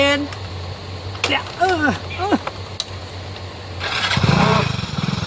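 Several short chirps and squeaks, then a motorcycle engine catches and revs up near the end, loud and close.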